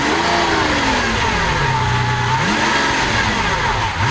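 Mid-mounted 48-valve V12 of a 2012 Lamborghini Aventador revving hard, loud and close, its pitch climbing, dipping and surging again in continuous throttle blips with no talk over it.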